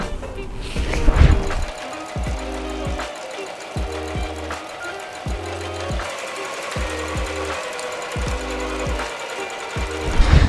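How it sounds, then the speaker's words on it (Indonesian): A sewing machine stitches a duffle bag in close, steady mechanical runs, broken by several short pauses between bursts, with a few louder knocks at the start and end. "Ayo kita mulai menjahit"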